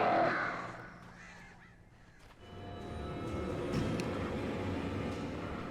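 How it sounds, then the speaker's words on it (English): Crows caw harshly in the Alan Wake video game, loud at first and then fading. A low rumbling game ambience builds underneath. "Oh yeah, the birds."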